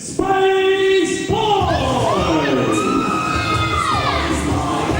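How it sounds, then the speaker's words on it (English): A wrestling crowd cheers and shouts loudly as a fan favourite walks to ringside, with high whoops and yells rising and falling over a dense roar. "Definitely a crowd favourite as Spaceboy makes his way to ringside"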